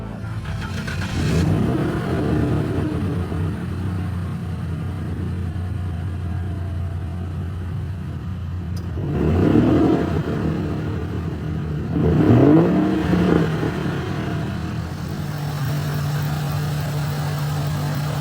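A Mercury Marauder's engine rumbles steadily at idle, then swells in two distinct revs a few seconds apart before settling back into a low, even drone.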